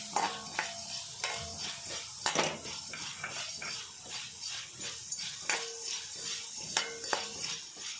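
Masala fries in a pan for a traditional Tulunadu chicken dish, with soft sizzling under frequent scraping and clinking of a metal spoon stirring against the pan in an irregular rhythm.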